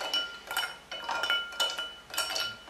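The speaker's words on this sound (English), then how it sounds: "We're going to add just a few pieces of ice. And just finely stir it." Ice pieces clink and tinkle against a cocktail glass as a 1919 night cocktail built with Angostura is gently stirred, a series of light, bright chinks in loose repeating bursts, close and quiet with no talking.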